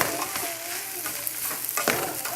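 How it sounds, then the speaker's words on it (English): Scraping and stirring of a mixture in a hot pan, with a steady sizzle underneath and occasional louder utensil scrapes. "So I just put that all in here and stir it up."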